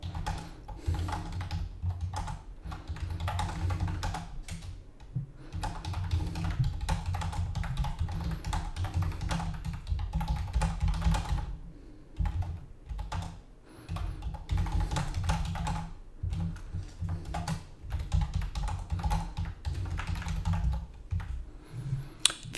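Fingers type on a computer keyboard while a profile is filled out, rapid close keystroke clatter in bursts separated by short pauses.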